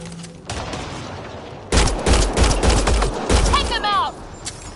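Rapid bursts of gunfire from a firefight in the sci-fi video game Mass Effect: Andromeda, loud and close, cracking in clustered volleys after a short quieter lead-in.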